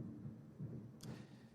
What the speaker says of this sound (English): that was a big thunder. I wonder if you heard that.